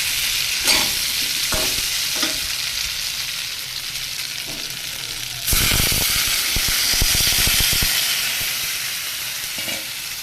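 Water poured into sizzling oil for an ol-prawn (yam and shrimp) curry gravy, a loud bright hiss that surges suddenly partway through and then slowly settles, with a few stirring knocks before, close by and no talking.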